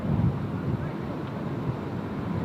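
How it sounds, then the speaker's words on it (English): Wind buffets a microphone at an airport, a constant low rumbling roar that swells and eases without pause. "that wind is whisking through"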